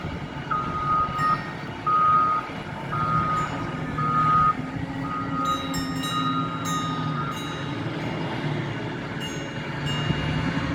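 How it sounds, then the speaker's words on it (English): A water truck's reversing alarm beeps steadily over a low diesel engine rumble while repairing a road right of way, with a second higher beep joining midway; no one speaks. "There's the water truck, and he's going to put another load of water on it."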